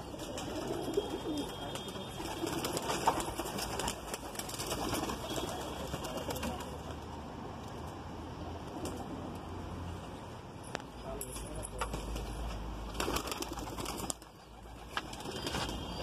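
Jalidar (netted) pigeons kept in a loft make soft, faint cooing and occasional wing flaps, low in level against steady background noise, with no one talking.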